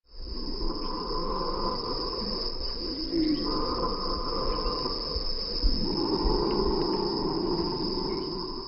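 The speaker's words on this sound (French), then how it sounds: "J'entends le ronflement d'un animal." An animal snores in slow, raspy breaths recorded outdoors in nature, with a steady high insect drone running continuously over the whole stretch.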